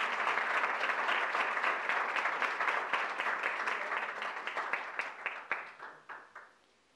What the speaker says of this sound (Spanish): Un fuerte aplauso para la compañera.